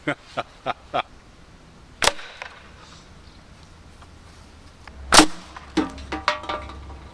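A homemade sling crossbow loaded with a ball, heard as a few sharp snaps and cracks with quiet gaps between them, plus one especially loud crack and several smaller clicks afterward, close by and with no talking.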